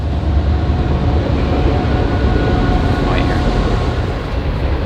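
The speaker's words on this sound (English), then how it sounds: "a train is coming" Train rumbling past near an Airstream Flying Cloud RV, a loud continuous roar that fills the whole stretch and fades slightly at the end.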